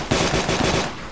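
Rapid automatic gunfire rattles in a fast burst from the video game DayZ, loud and close, with no talk.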